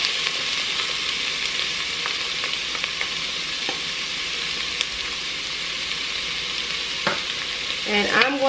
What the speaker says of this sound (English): I'm going to just saute this for about 3 minutes